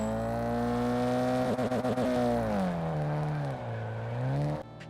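A racing-game car engine hums steadily, rises and falls in pitch through several gear shifts and revs, then cuts off abruptly after about four and a half seconds.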